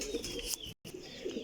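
Champion Jhath Wasakh pigeons cooing in a loft, soft low calls repeating through the clip, broken by a brief moment of silence midway.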